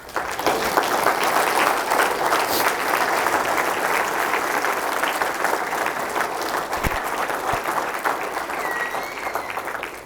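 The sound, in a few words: church congregation applause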